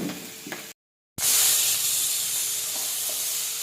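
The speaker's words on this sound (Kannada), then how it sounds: "ಇದಕ್ಕೆ ನಾನು ಶುಂಠಿ ಬೆಳ್ಳುಳ್ಳಿ ಪೇಸ್ಟ್ ಮಾಡ್ಕೊಂಡಿದ್ನಲ್ಲ ಅದು ಹಾಕ್ತಾ ಇದ್ದೀನಿ" Ginger garlic paste fries in a pan for a potato capsicum gravy, a soft sizzle and stir cut by a short silent gap, then a louder, bright hissing fry that holds steady to the end.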